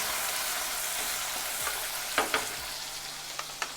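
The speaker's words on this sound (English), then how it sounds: "And to this, I am going to add the green chillies and also the onions." Green chillies and onions frying in a pan, a steady sizzle with a few sharp scrapes and taps from stirring toward the end, close by and alone.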